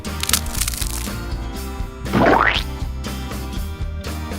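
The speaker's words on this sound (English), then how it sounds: "Let's crack it open to get that yolk that's inside." A green plastic toy egg cracks open with one sharp snap and a short crunching rattle near the middle, set against steady background music, close and fairly loud, with no speech.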